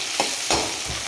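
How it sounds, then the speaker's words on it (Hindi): Chopped onion frying in hot oil in a pan for a beans and potato sabzi, a steady close sizzle with a few soft scrapes of stirring and no voices. "इसमें हमने डाल दिया है प्याज और हम इसको एक मिनट तक पकाएंगे।"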